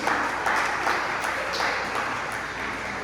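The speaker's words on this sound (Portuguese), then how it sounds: "Você pode dar uma salva de palmas ao Senhor Jesus?" A church congregation applauding in praise during a Portuguese-language sermon: a sustained, fairly loud wash of clapping across the room with a few sharper claps standing out.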